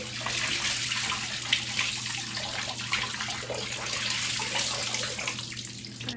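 Soaked towels being wrung out over a filled tub of water, a steady close splashing and trickling of water pouring back down, continuous with no speech.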